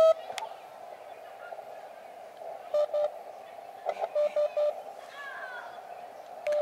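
Slow Morse code from a portable KX2 ham radio transceiver, heard as a steady tone keyed into unhurried dots and dashes over faint background hiss.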